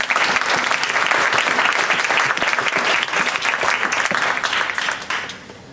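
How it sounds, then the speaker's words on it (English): A crowd claps loudly and continuously after a speech at a youth leadership program grand finale, the dense applause holding steady before tapering off at the end. "everyone, another round of applause for it."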